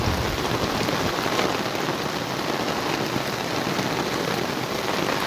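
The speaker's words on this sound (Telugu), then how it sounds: "చూడండి వాన" Steady, heavy rain pours down in Vijayawada, Mangalagiri and Guntur, a dense, continuous hiss with no voices, loud and close throughout.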